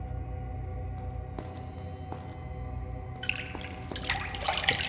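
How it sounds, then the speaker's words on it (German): Splashing, trickling water in the video game Prince of Persia: Sands of Time, a steady faint run of water that swells into a brighter, louder splashing toward the end, with no voices. "Dieses Wasser plätschern"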